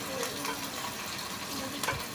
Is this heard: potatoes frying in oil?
yes